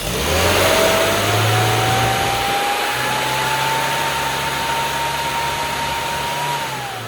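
A classic car engine at a Riviera Run event, revved and held at high speed during ignition timing tuning, a loud sustained steady drone with a rising pitch that levels off, then eases slightly at the end.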